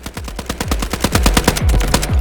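An RM277 rifle fires in the Delta Force video game, producing a close, loud stream of rapid automatic shots in steady succession with deep booming thumps, and no talking.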